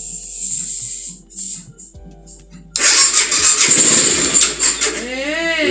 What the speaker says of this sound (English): We got a crank, guys.